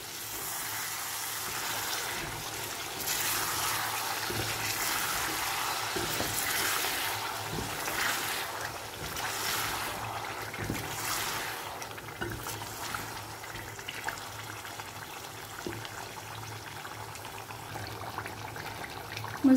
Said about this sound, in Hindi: दही के साथ इसकी भुनाई करेंगे 4 से 5 मिनट के लिए।